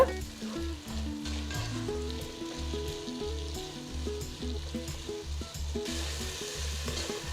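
Chopped ripe tomatoes sizzle and fry steadily in a pan, with occasional stirring, while a soft melodic tune plays underneath throughout.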